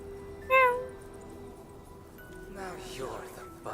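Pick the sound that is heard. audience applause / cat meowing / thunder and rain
cat meowing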